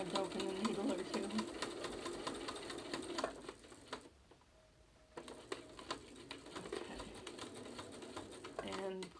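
A sewing machine stitches fabric around a pipe cleaner in quick, busy bursts, pausing for a short quiet stretch before resuming, with faint birdsong behind.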